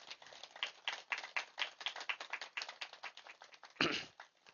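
Crowd at a nature retreat gathering applauding for Patriji, a dense run of many hands clapping together for several seconds, steady and fairly close, with a sharper louder burst near the end.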